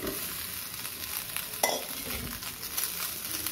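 Boiled rice being stirred through in a pan while making coconut rice, a steady frying hiss with soft scraping and one sharper utensil knock partway through, close and continuous.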